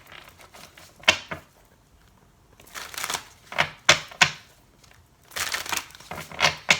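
Tarot cards shuffled by hand in several quick papery bursts separated by short pauses, close and fairly quiet with no talking.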